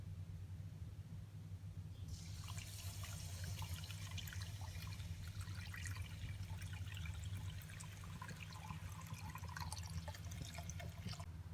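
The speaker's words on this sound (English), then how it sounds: "you can just put like half jug of water" After a low steady hum, water from a jug starts pouring into a pan of fish curry, a sustained splashing, rushing stream that continues close and fairly loud until the end.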